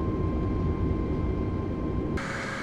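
Boeing 747 engines in the Microsoft Flight Simulator 2020 video game: a loud, steady broadband engine roar with a constant whine, continuous throughout, shifting in tone slightly near the end.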